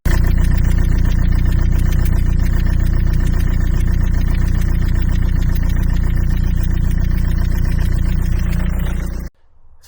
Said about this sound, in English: that's the noise that the injector makes when it's leaking